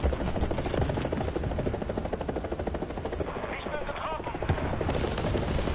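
Helicopter rotor chop in a War Thunder aerial battle, dense and loud throughout, mixed with rapid machine-gun bursts and gunfire.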